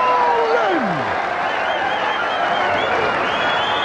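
A packed darts crowd at the World Championship roars and applauds after a nine-dart finish, a dense, sustained wall of cheering and clapping with a falling whistle early on and a commentator's voice riding over it.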